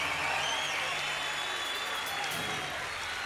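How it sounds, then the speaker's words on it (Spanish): Concert crowd applauding for the drummer at a rock show, a continuous broad wash of clapping and crowd noise, steady and fairly loud with no clear talk. "Un aplauso para él."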